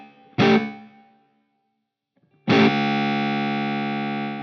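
An electric guitar played through a Line 6 Helix with a bright digital spring reverb: one short strum rings out and fades, then after a pause a second chord sustains loudly with a shimmering, springy reverb tail.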